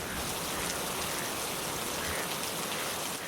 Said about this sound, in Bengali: সকাল থেকে যা বৃষ্টি শুরু হয়েছে